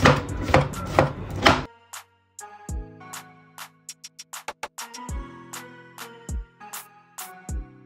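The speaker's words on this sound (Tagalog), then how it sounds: "Yan, gayatin natin ang mushrooms." Mushrooms being chopped with a knife on a cutting board for a stuffed pork relleno, a burst of rapid dense chopping followed by separate sharp close knocks spaced out, with no talking.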